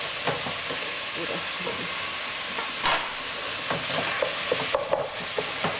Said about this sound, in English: I like to put the garlic in with the pork as it's cooking